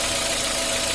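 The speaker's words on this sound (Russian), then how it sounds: "И как мы с вами слышим, только работает двигатель." A car engine idles steadily with a constant hum and no whistle, heard close and alone for a moment.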